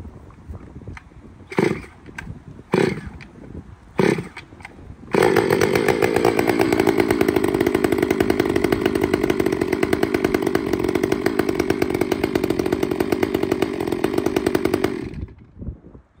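Stihl-style 500i chainsaw with decompression valve on a cold start: several sharp pull-cord tugs, then the engine catches and runs loudly and steadily for about ten seconds before cutting off.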